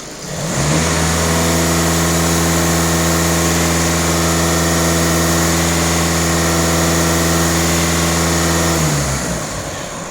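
Volkswagen/Skoda TDI EA288 diesel engine revved up and held at steady high revs for several seconds, then dropping back, a loud, close, continuous mechanical drone with no talk.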